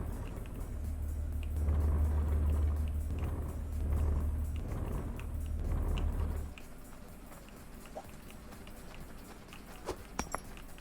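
A truck driving in the mining game Hydroneer, a low steady engine drone with pulsing surges that cuts off partway, leaving quiet ambience and a few faint clicks.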